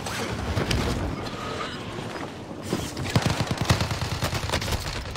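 Gunfire from a video game shooter rattles in rapid automatic bursts, thinning briefly before a louder stretch of fast, clustered shots near the end, with no talking.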